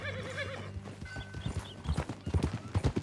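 A filly's hooves clip-clop in Red Dead Redemption 2, a steady rhythm of close, loud steps that quickens toward the end, with a horse whinnying and brief game dialogue over the top.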